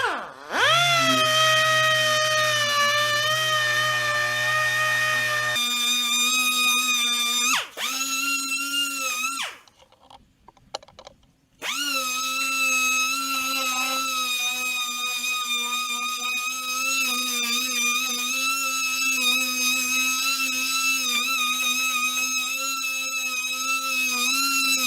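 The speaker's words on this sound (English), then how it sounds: "I'm going to get myself the wire wheel, and I'm going to start taking care of that." A power-driven wire wheel cleans a vehicle frame with a loud, sustained high-pitched whine and grind that runs almost nonstop, stopping briefly for a couple of seconds partway through before starting up again.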